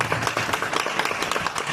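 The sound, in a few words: audience applause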